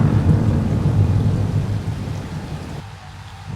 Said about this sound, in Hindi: एक दिन सुंदर वन में जोर का तूफान आया।